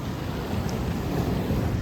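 Sea waves surge and crash near the shore in stormy, gusty weather, a continuous loud wash of water mixed with wind buffeting the microphone.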